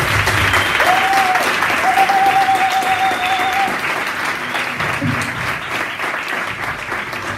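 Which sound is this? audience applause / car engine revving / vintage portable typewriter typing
audience applause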